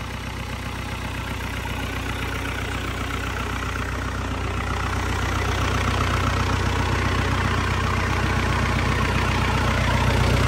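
A Japanese Isuzu 4KH1 diesel engine running at a smooth steady idle, close and loud with an even rhythmic low knocking clatter that grows slightly louder toward the end, no talking.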